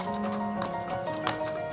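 Irish horse hooves clip-clopping in a quick, steady rhythm, close and moderately loud over a faint background.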